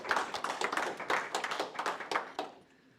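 An audience at a creativity and technology talk claps briefly: close, dense applause from a modest crowd lasting a few seconds, then tapering off.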